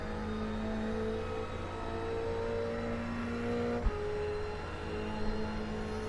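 GT race cars in a sim racing game at Autodromo Nazionale Monza, a sustained engine drone holding steady with a sharp gear shift midway, then continuing at a lower pitch, close and loud with no talking.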